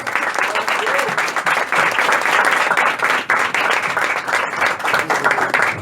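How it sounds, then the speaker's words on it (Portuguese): A church congregation applauds continuously for several seconds, a dense, steady wash of many hands clapping together, loud and fairly close, with some voices mixed in. "Aplauda o Senhor."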